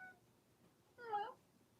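A house cat lets out a single short, soft meow near a door, brief and fairly close against a quiet room.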